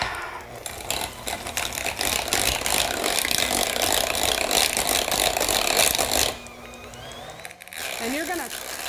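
An electric mixer whips coconut cream with maple syrup on high, a loud, steady whirring and rattling up close that cuts off near the end, with a person talking.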